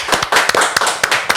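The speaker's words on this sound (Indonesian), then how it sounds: "Boleh dong tepuk tangannya." Scattered audience applause at a podcast-style talk, a short burst of sharp, uneven hand claps close to the microphone, loud and with no talking over it.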